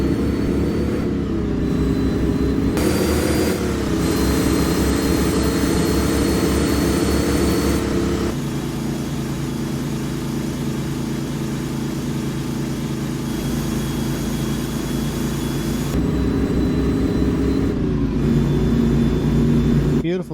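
A vintage Ford 534 cubic-inch V8 in an F800 Custom truck in American Truck Simulator, a loud steady rumbling drone that climbs and drops through gear changes and revving, with a voice over it at moments.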